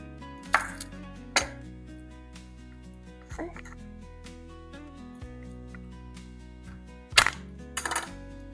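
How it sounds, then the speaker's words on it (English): Kitchen knife pounding on a citrus-type peel to loosen it: a handful of sharp, close thuds against a board, spaced irregularly with a double hit near the end, under a quiet background hum and occasional talk. "So if you will just take your knife and pound it, it makes it so that the peel comes off effortlessly"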